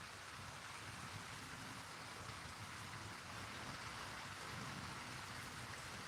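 Steady rain falls outside, a constant close wash of hiss and patter that carries through the whole stretch with no voices.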